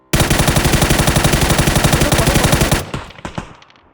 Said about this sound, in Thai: ยิงยิงยิง